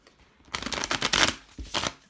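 Witch's Tarot cards shuffled by hand, a short burst of riffling and flicking card noise up close, starting after a brief quiet moment.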